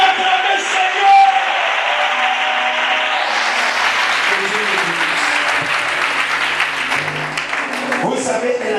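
A church congregation at a Sunday service applauds and cheers together, a dense, loud wash of clapping with whoops and shouts sustained throughout, voices rising within the crowd.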